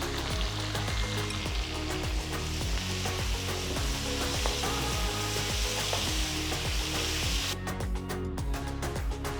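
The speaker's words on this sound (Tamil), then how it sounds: "அதே கடாயில் 6 மெலிசா நறுக்கின வெங்காயம் போடுங்க." Loud, continuous sizzling of thinly sliced onions frying in hot oil in a kadai, with occasional scraping stirs in the pan.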